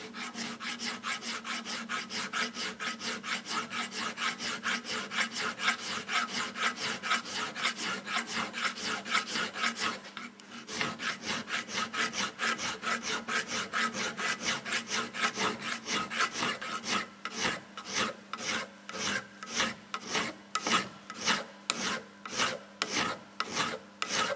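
A welded part of a small vice being built is filed in a long run of rhythmic rasping strokes, steady and close, with the strokes growing more separated near the end and no talking.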